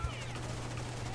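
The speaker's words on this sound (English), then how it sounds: "that was just blind firing that I did" Rapid bursts of blind gunfire in the Rainbow Six Vegas 2 video game multiplayer, fairly quiet and compressed with a steady low hum underneath.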